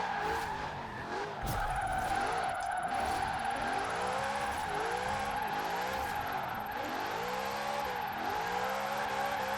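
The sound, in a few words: Lexus RC F wheelspin and tire squeal in Forza Horizon 4 video game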